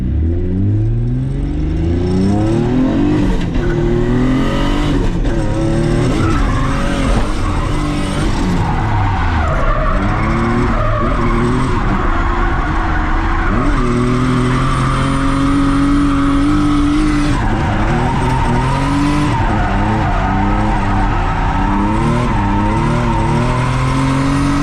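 A turbocharged Nissan S13 drifts at a drift event, its engine revving hard with loud sustained tire squeal and skidding, shifting pitch as it accelerates and slides, continuous and close for the whole stretch.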